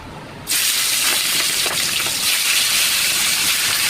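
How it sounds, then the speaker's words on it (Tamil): Fish pieces dropped into hot oil for a fish curry set off a loud, sudden sizzle that holds steady as a dense, continuous crackling hiss close to the pan. "இப்போ நம்ம மீன் பொரிச்சு வச்சுக்கலாம்."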